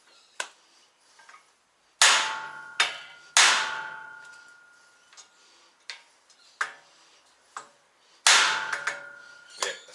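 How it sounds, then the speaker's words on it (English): A lump hammer with a loose head strikes metal during a Mazda CX-7 front wheel bearing replacement, sharp ringing blows spaced irregularly, some heavy and some light, with silence between. "Found my lump hammer"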